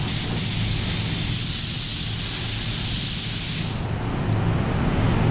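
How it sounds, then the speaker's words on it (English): A spray gun atomizes paint sealer in a continuous close, loud hiss for several seconds. The spray then stops, and a lower background rumble continues. No one speaks. "let's go ahead and test this out and see how it's atomizing the sealer"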